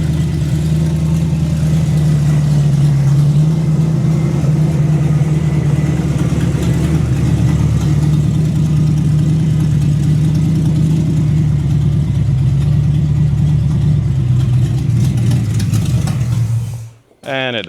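An old Pontiac Firebird engine, neglected after years of sitting, runs steadily with a low, rough hum, continuing without pause before cutting off abruptly near the end, followed by a brief voice.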